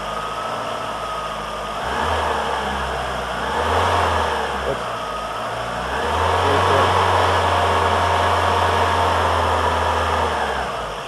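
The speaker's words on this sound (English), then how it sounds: "Open up the secondary slowly, and the engine should start to die." A Volkswagen car engine runs steadily, swells in a couple of revs with a deep droning hum as the secondary throttle opens, then holds a rough, labored tone as it falters from a faulty wide-open-throttle switch.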